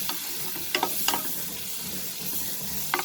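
Capsicum sautéing over a low flame in a pan, a steady soft sizzle with a few brief scraping stirs near the start and end, fairly quiet and close.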